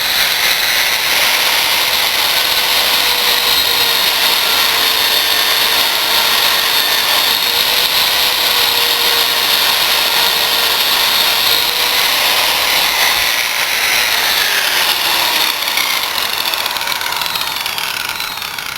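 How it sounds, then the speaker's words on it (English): Drill spinning a brass wire brush against a screw head, a loud continuous whirring whine with scratchy brushing texture held steadily for nearly twenty seconds, no talk. "we're just literally going to brush the brass from here to the screw"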